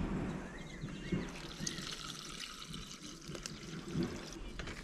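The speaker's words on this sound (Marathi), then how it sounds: "पाणी वतते हातावरून" Water is poured over a hand in a home kitchen while spinach is washed and cooked, a faint, soft trickle and splash among quiet background noise.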